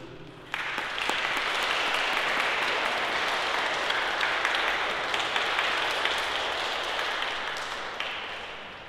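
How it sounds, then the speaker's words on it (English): Round of applause from the congregation at a Holy Week cathedral school Mass, a sudden onset of dense, steady clapping that holds at moderate level for about eight seconds before easing slightly. "Shall we give round of applause for all children who led us in this liturgy?"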